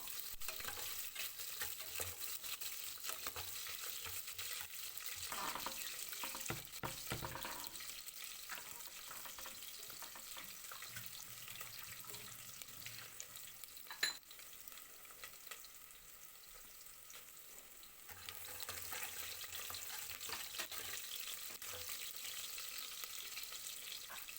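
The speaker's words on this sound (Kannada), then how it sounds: "ಕರಿಬೇವು ಒಂದು ಈರುಳ್ಳಿ ಹಾಕ್ಕೊಂಡಿದ್ದೀನಿ ಒಗ್ಗರಣೆಗೆ ಅದು ನೀಟಾಗಿ ಸ್ವಲ್ಪ ಈರುಳ್ಳಿ ಫ್ರೈ ಆಗಬೇಕು" Onion and curry leaves fry in a tempering for a village-style sprouted horse gram curry, giving a soft, continuous close sizzle with occasional stirring scrapes and no talk.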